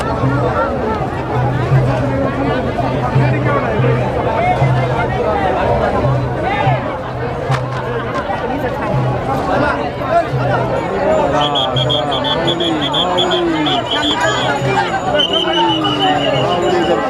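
A dense crowd of pilgrims gathers for darshan in Phaltan, giving a steady murmur of overlapping voices and chatter with shouts rising here and there, close and loud throughout, plus a faint tonal hum underneath.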